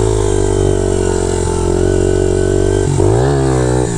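A small Honda CRF 80F pit bike engine buzzes loudly and close at high revs, then dips and climbs sharply in pitch as the throttle is blipped during a wheelie.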